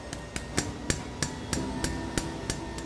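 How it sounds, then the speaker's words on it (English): A hammer taps a mechanical seal onto the ceramic part of a marine engine pump, about ten sharp, evenly spaced strikes at close range with no talk. "And just smash with hammer."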